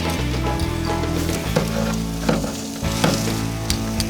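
A porterhouse steak is flipped while cooking caveman style, giving a loud, continuous close sizzle and crackle with brief sputters and shifts in intensity as the meat is turned.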